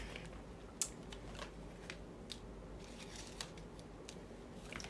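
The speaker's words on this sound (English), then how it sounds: "If you don't like it sticking so high up, just cut it a little bit." Scissors snipping paper to trim a handmade mini notebook, a few quiet, sparse crisp cuts and rustles close by, with no voices.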